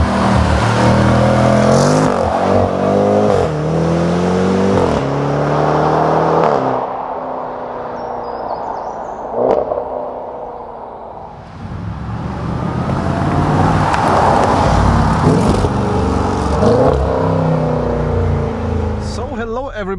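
A 2022 Jaguar F-Pace SVR with 550 hp accelerating hard: loud engine revs climbing through repeated gear changes, a brief lull, then another strong surge, with speech over parts of it.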